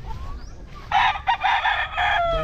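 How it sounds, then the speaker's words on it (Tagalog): A rooster crows once at close range on a backyard poultry farm in Sogod, Cebu, a loud drawn-out call that starts after a short pause and carries to the end. "Isang ano din dito guys sa kanyang mga manok ni Boss Nicole"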